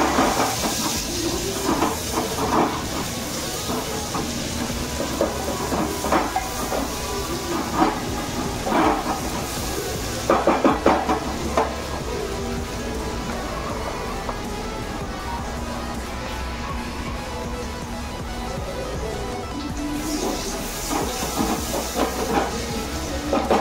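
Chopped onion sizzling in hot oil with cumin seeds and dried red chillies in a home kitchen, a steady loud hiss with crackling bursts that swells and settles over the whole stretch.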